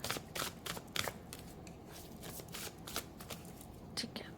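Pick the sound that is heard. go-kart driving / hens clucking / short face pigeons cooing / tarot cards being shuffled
tarot cards being shuffled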